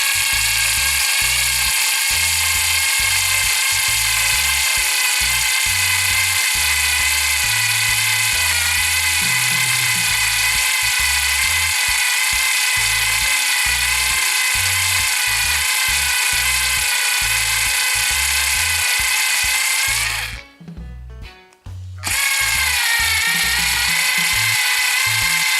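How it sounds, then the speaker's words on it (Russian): A small drill bores a hole through a metal watch dial with a steady, unbroken whine and rhythmic grinding. It runs for about twenty seconds, stops briefly, then starts again. "Сверлится достаточно быстро."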